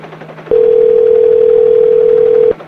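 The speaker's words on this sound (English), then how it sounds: "Straight to voicemail." A steady electronic phone tone holds alone for about two seconds during a call that goes straight to voicemail.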